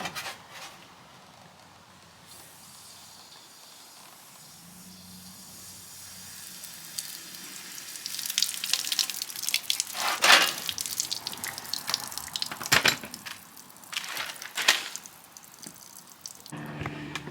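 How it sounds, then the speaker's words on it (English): Water rushes and hisses through a radiator being flushed during a 600cc Arctic Cat engine swap into a vintage buggy, starting quietly and then growing into a loud, steady spray with sharp splashing bursts. "we're going to do a radiator flush"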